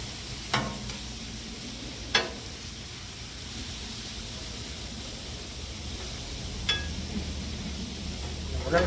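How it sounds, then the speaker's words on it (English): Shrimp tossed with a few sticks of butter sizzle on a hot Blackstone griddle, a steady soft hiss of frying with a few sharp clicks and scrapes from a spatula, heard close and fairly quiet. "All right, so this shrimp coming on hot. I got a few sticks of butter that I did mix in with it."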